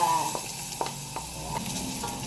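Ginger frying in about two spoonfuls of hot oil in a pan, a steady close sizzle with a few soft stirring clicks breaking through, no voices.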